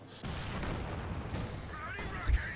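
A tank strikes a mine in a strategy video game, setting off a sudden heavy boom that rumbles on as battle noise, with faint voices near the end.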